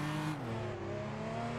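An Assetto Corsa drift car from the VDC pack, entering a corner on the handbrake, its engine droning steadily at high revs with the pitch shifting slightly, loud and close with no talk.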